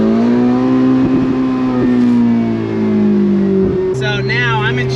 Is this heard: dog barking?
no